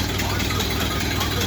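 A 1931 Ford Model A engine, running for the first time in several years, idles low with a steady, continuous rumbling chug, close and even throughout.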